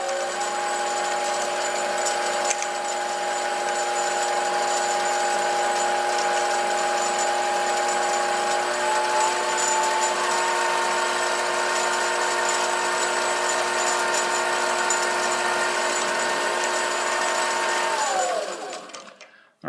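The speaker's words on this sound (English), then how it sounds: "And now we'll go ahead and drill our pilot hole." SIEG 7x14 mini lathe drilling a pilot hole with a center drill, a steady whirring motor hum with a thin cutting whine, running continuously at moderate volume before winding down at the end.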